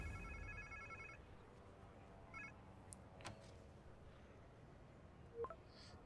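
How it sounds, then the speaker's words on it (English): Phone ringing in the video game Spider-Man 2, a quiet electronic ringtone sounding in short bursts over faint background noise, with a couple of soft clicks. "Sounds like somebody's phone."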